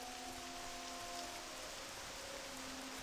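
Rain in the World of Warcraft game world patters steadily and softly on surfaces, a faint continuous wash with a few faint tonal hums beneath, and nobody speaking.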